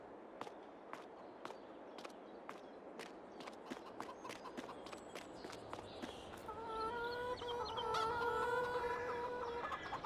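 Chickens in Farming Simulator 22 cluck and peck in a steady run of short, sharp clicks, with rising tonal calls joining in the second half, fairly close and clear with no talk.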